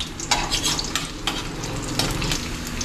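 Garlic frying in hot oil in a heated pan (kawali), a steady close sizzle with stirring scrapes throughout, no talking.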